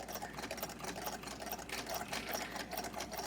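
Motorized Singer 27 sewing machine stitching fabric, a fast steady rattling hum with rapid regular clicks, close and continuous with no talk.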